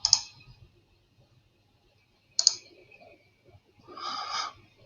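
Two sharp, isolated computer mouse clicks a couple of seconds apart in a quiet room, followed by a soft breathy rustle.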